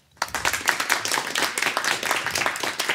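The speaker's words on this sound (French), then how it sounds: "Je vais vous demander un applaudimètre pour l'équipe des Biquettes." A live audience in Monbazillac claps loudly for the Biquettes team during a game show, dense clapping starting abruptly and staying steady and close for several seconds.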